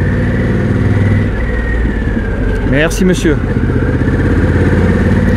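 A Harley-Davidson Pan America motorcycle engine rumbles steadily while accelerating, with a brief siren-like wail passing midway; someone speaks briefly over the engine noise.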